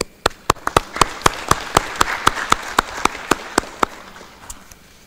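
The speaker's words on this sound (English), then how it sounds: "A huge applause for all of you guys" Audience at the Liberec Economic Forum 2021 conference clapping in an evenly spaced, steady rhythm, sharp and fairly close, fading slightly toward the end with no talking.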